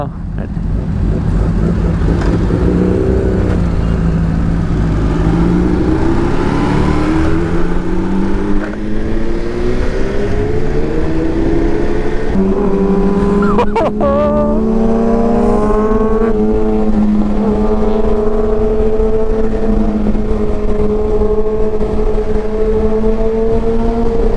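A Suzuki Hayabusa engine idles loudly nearby and climbs through steady revs, its deep tone rising gradually, with a brief sharp click midway and wind buffeting the microphone.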